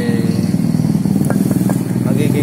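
A Yamaha RXT 135 motorcycle engine with a modified engine runs loud and close with a steady throbbing rumble, holding at a rough, even pitch with a voice faintly under it.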